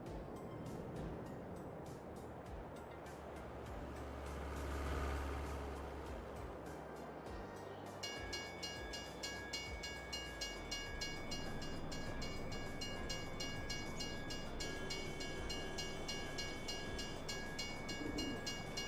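A train rolls past in the farming game Farming Simulator, a steady rumbling clatter with a rising low swell near the middle, then a bright sustained multi-tone horn or whistle layer joining in for the second half, loud and continuous.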